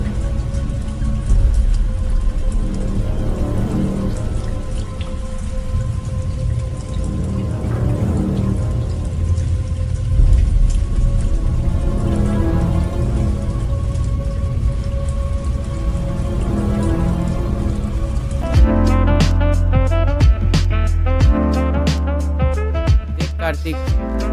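Heavy rain pours in a steady, dense hiss, loud and close, for most of the stretch before music takes over near the end.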